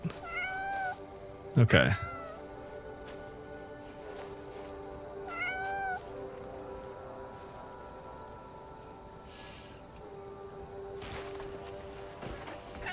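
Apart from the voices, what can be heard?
cat meowing in video game Crimson Desert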